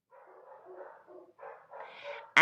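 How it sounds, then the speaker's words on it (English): A dog in a backyard barks in a quick run of yaps and whimpering barks, moderately faint and somewhat distant, ending with a sudden loud noise close by. "Can you hear Jake flipping out in the backyard?"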